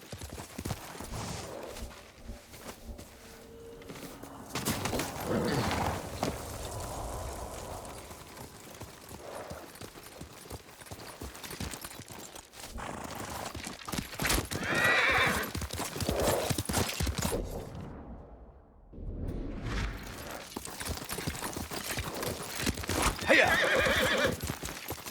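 Horse hooves clip-clop at a rapid, uneven pace amid loud neighing and whinnying in the video game Ghost of Tsushima, with bursts of commotion and a brief drop to near quiet.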